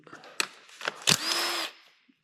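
A power tool with a socket loosens bolts on a Mercedes M104 engine during a teardown: a few short clanks, then one brief whirring burst of about half a second, close by.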